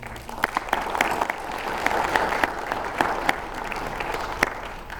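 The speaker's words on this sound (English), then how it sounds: "So I'll have a little round of applause for them." A little round of applause from the audience at a Sarasota County Commissioner candidate forum, scattered and moderately dense clapping with distinct sharp individual claps popping out over a softer crowd wash.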